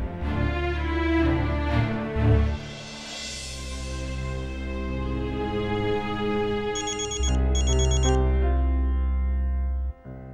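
A melodic phone ringtone plays continuously for several seconds, layered and steady, with a brief pause and a louder repeat near the end.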